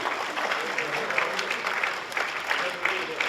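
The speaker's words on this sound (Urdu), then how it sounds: "بہت اہم کتاب، آپ سب کی زوردار تالیاں ہونی چاہیے۔" Audience applause at a book release ceremony during an Urdu literary award event, a dense, continuous round of clapping from a sizeable crowd, fairly loud and sustained for several seconds, with a voice faintly present beneath it.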